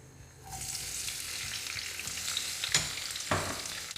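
Cherry tomatoes hitting garlic-scented oil over high heat, a quiet start giving way to a loud sustained hiss of frying, with a couple of sharper clatters from the pan, close and with no talk.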